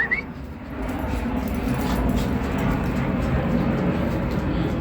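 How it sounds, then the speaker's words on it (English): Small and larger dogs, a chihuahua and a husky, playing together, with a brief yip and whimpering over steady rumbling background noise, close by. "Little dog versus bigger dog."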